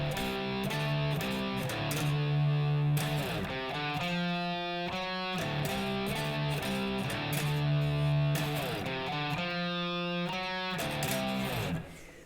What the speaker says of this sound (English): And for the chorus we need a bit of distortion.